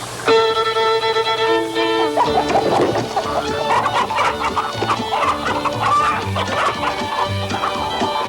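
Chickens cluck and a rooster calls loudly over silly, bouncy music in a film chase scene, the birds' clucks and squawks mixing closely with the busy soundtrack throughout.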